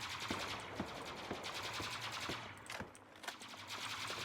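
A minigun fires in the online shooter UpGun, a rapid stream of repeating shots at modest volume, with a few louder individual cracks standing out.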